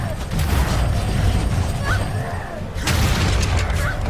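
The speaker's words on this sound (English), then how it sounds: "now they're breaking this prison door down." Heavy mechanical creaks, grinding and thuds as a prison door is battered down in the video game Guild Wars 2, loud and continuous with a brief lull midway.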